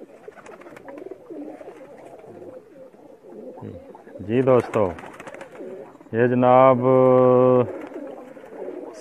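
High flyer pigeons coo in two loud, close bursts of throaty, harmonic calls, the second longer and steadier, with someone speaking before and between them.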